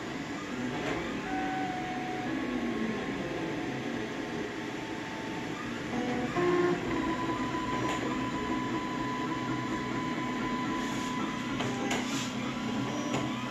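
Two 3D printers, a daVinci mini and a Prusa i3, printing PLA together, a steady mechanical whir and hum with whining stepper-motor tones and occasional brief clicks, continuous throughout.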